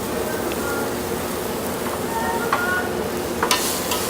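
Sliced fennel and artichoke sizzling steadily in a hot pan, a loud continuous fry with occasional stirring clicks and scrapes, close up.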